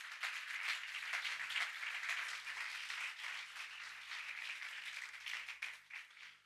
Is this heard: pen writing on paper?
no